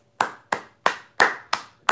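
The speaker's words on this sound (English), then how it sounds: "Round of applause." Six sharp, close hand claps land in an even, slightly spaced rhythm, each one crisp with a short decay, during a live-streamed Q&A.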